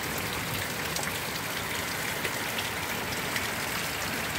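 Steady rain pours off the roof edge of a house with no gutters onto the front yard, a dense, even hiss of falling water that stays constant throughout with no voices.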